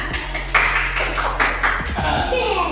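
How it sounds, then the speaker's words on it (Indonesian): A class of students claps their hands together at the teacher's request during an Islamic religious education lesson, a short burst of close, bright claps with talk mixed in. "tepuk tangan"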